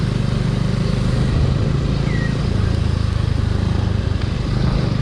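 A motorcycle on thin tyres rides along a slippery, muddy road. The close engine keeps up a loud, continuous rumbling drone throughout, with road noise mixed in.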